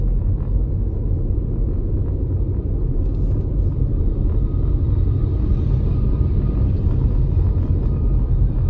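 A car drives at low speed in slow traffic, giving a steady, loud low rumble of engine and road noise with no break.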